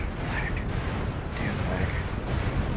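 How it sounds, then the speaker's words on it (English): Missile explosions boom in the MechWarrior Online video game as a King Crab mech stomps through a swamp, with heavy, rumbling blasts and mechanical clatter rolling on continuously over a short stretch. "Warning, incoming missile."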